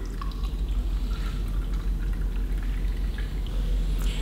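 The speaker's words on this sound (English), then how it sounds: "this is an empty bucket and I am pouring some water in this bucket." Water poured into an empty bucket, a continuous splashing and gurgling stream with small drips and trickles, close and fairly loud, with no voices.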